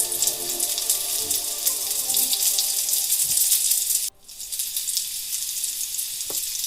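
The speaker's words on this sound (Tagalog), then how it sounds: "naglagay tayo ng onion leeks at saka yung uh, onion o sibuyas patuloy lang ang paggisa natin" Onion leeks and onions sautéing in a pan in a home kitchen, giving a loud, steady close sizzle that cuts out abruptly partway through before resuming more softly, with no talking.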